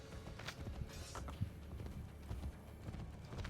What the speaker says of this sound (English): Faster to travel by horse.